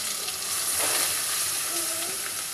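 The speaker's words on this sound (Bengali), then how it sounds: "এরপর আমি গোশত মাখাটা দিয়ে দিব" Marinated beef hits hot oil spiced with bay leaves, cinnamon, cardamom and cloves, sizzling loud and steady at close range with a constant hissing fry and no talk.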